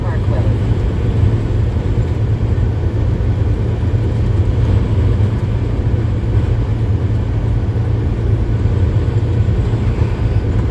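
Strong winter wind roars steadily outside a truck cab during a snowstorm in Canada, a loud continuous rush blended with low road rumble throughout.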